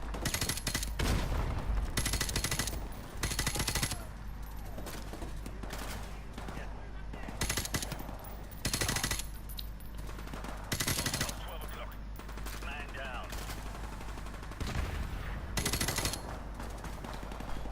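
Bursts of rapid automatic gunfire in the video game Call of Duty: Modern Warfare Remastered repeat in loud volleys over a steady background drone, with a voice talking between and under the shots.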